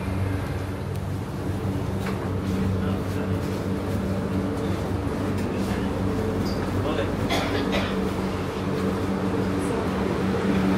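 Steady low rumble of a metro train interior in Istanbul, Turkey, with a constant hum, faint voices murmuring in the background.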